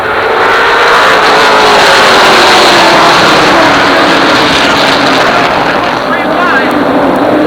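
Late model race cars roaring away at a green flag start at Jennerstown Speedway, a loud dense engine roar building and sweeping past, with an announcer talking over it.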